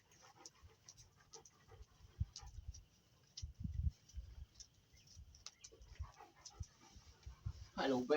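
A dog in a harness breathes in quick, soft pants with faint whimpers, close and quiet, broken by a few louder thumps and shuffles near the end.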